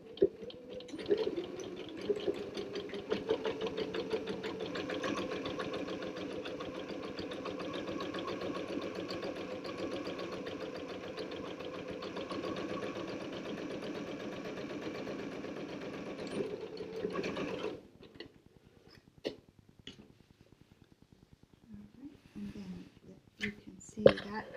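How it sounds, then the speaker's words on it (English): A sewing machine stitches a backstitched seam on an ironing board cover, a steady close mechanical whir running for about seventeen seconds before stopping, followed by quiet handling noises. "I'm going to go ahead and backstitch at the beginning and the end to reinforce that"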